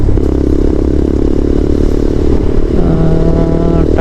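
A motorcycle rides along a highway in India, its engine a loud, steady drone mixed with wind rush and road clatter that continues without a break, rising slightly near the end.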